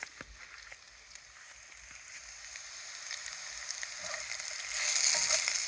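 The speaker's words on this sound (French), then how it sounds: "Donc là il y a une petite rissolée qui est en cours." Carrots, spring onions, garlic and squash seeds sautéing in a pan on a parabolic solar cooker, a soft steady sizzle that builds louder toward the end, with faint clinks, heard alone.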